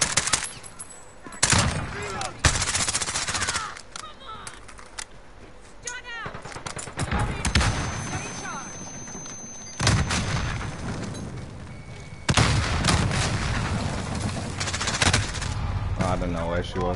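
Rapid bursts of suppressed AS VAL rifle fire in Call of Duty Modern Warfare, loud repeated volleys separated by short pauses, with in-game booms and impacts throughout.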